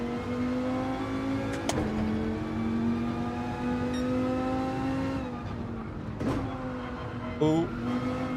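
Dodge Viper engine in Gran Turismo 7 racing, revving continuously with rising and falling pitch as gears shift, loud and steady throughout, with brief tire noise.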